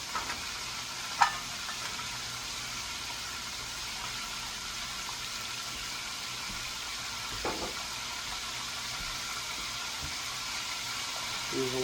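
Fresh garlic fries in a pan with a steady, soft sizzle throughout, plus a couple of faint clinks of stirring.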